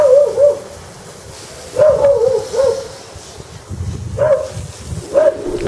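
Several dogs bark and yelp in short bursts, a few seconds apart, with a faint low rumble and distant echoing background between the barks.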